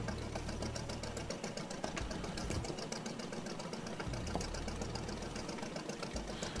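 A boat engine in a video game chugs and rattles with a fast, steady, mechanical ticking, a continuous low-level clatter running evenly throughout without pauses.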